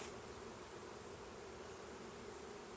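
Honey bees swarm around an opened hive during an inspection and honey harvest, a dense continuous buzzing drone close to the ears with no voices.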